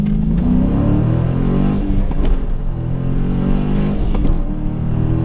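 A 2019 Dodge Challenger R/T Scat Pack V8 engine revs hard, a loud, steady deep rumble with rising and falling pitch as it is driven, close by with no talking.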